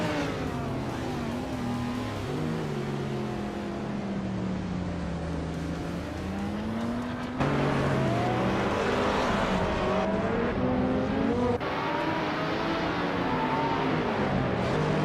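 Race cars in a racing video game, several engines droning and revving continuously with rising and falling pitch sweeps as cars accelerate and shift, loud and unbroken throughout, with no talking.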